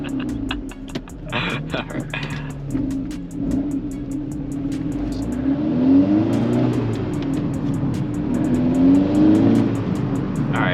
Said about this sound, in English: I'm just gonna let the car talk for a little bit.